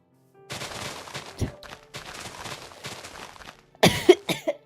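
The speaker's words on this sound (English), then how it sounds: "You squawk every time you cough." A burst of sharp coughing in the video game Minecraft near the end, following a stretch of scuffling and rustling noise, with a couple of loud hacking bursts close by.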